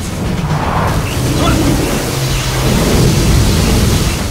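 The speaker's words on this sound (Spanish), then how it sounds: "¡Vaya tela! ¡Tormenta!" Thunderstorm in the video game Gears of War 4, a loud, continuous rumble of storm wind and rain with deep booming, and a voice talking over it.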